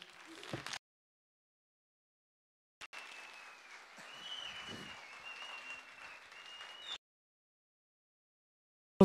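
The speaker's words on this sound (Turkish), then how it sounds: "Alkışlarla uğurluyoruz sizi." An audience applauds at a Turkish folk music event, a steady burst of clapping lasting about four seconds between silent gaps, with a brief clap spike at the start.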